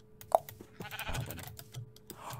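A single sheep in a Minecraft-like video game gives a short bleat near the start, followed by quieter game ambience and faint shuffling sounds, with no talk.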